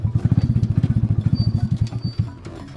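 A motorcycle engine chugs close by in fast, even pulses, loud and rhythmic, then turns uneven and fades slightly toward the end.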